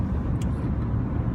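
Steady low engine and road rumble from a car cruising on a long interstate road trip from Colorado to Virginia, continuous and fairly loud throughout with no talk.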